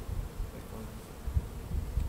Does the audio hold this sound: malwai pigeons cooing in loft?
no